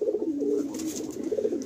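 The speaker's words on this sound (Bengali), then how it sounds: "প্রতিটা পায়রা 900 টাকা করে পিস রাখা হচ্ছে" Low, throaty cooing from sale pigeons, a male and female pair in a Kolkata market, rolls on continuously at close range with no voices over it.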